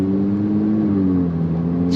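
A Ferrari 296 GTB cruises on the street in hybrid mode with automatic shifting and wet mode selected, giving a smooth, steady low engine drone with a gently falling tone from inside the car.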